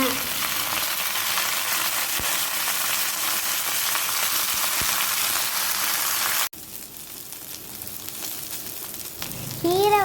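Thuthuvalai leaves, added to a pan after chillies, fry with a loud, continuous close sizzle that drops in intensity partway through, as if stirred or the heat changes.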